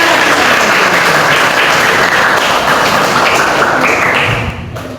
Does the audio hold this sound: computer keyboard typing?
no